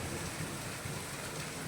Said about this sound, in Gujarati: જોવો કેટલી જોરદાર વીજળીને કડાકા થાય છે અને પાણી આ ઓટલે ચડવા આવી ગયા છે